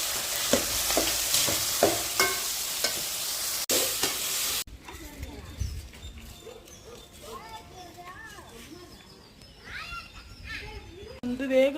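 Curry leaves and coriander frying in a pan, a bright sizzle with rhythmic stirring scrapes for a few seconds before it cuts to quieter room sound with voices and children's chatter.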